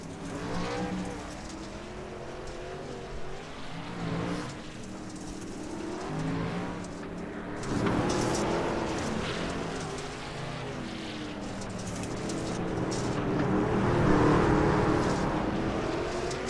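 Racing trucks in the Margarita Bowl roar around a dirt track, engines rising and falling as several pass by, loud and continuous, building to a louder pass near the end.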